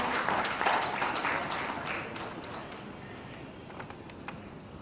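An audience at an e-governance conference in Bihar applauds a speaker, a dense wash of clapping that starts strong and gradually thins and fades toward the end.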